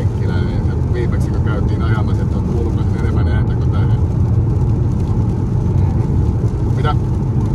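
Inside a moving Skoda Octavia Combi, a steady low engine drone and road rumble hold constant throughout at an even, fairly loud level.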